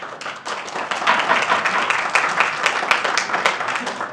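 Crowd at a town council meeting breaks into sustained applause, a dense, loud patter of many hands clapping steadily throughout with no talk over it.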